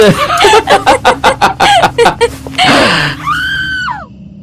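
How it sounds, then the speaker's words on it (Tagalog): A woman's scream, sudden and loud, is set in a Filipino aswang horror tale. Sharp rhythmic shrieks or clucks come first, then a burst of noise and a long, piercing wail that falls away at the end. "makarinig ng malakas na sigaw ng isang babae"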